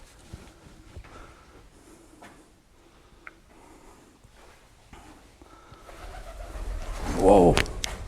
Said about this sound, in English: Oh, they're not bats, they're just pigeons